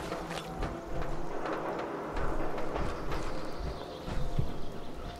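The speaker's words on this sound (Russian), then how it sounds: "Там какой-то поезд едет, слышите?" A train rumbles past in Fallout 4, a steady, loud mechanical roar with rattling clatter that swells partway through and holds to the end, with no talking over it.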